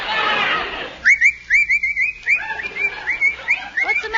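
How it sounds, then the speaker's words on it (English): A man in a vintage radio comedy whistles a bright, chirpy run of short rising notes, close and clear, after a brief rush of noise. "What are you whistling for?"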